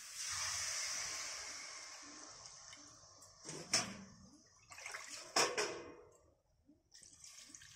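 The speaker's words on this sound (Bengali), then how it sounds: "এবার ঝোল দিয়ে দেবো।" Broth pours into a curry of cauliflower and grated kochur loti cooking in a pan, a steady hissing splash that fades, then a few sharper sizzling bursts and clatters as it settles.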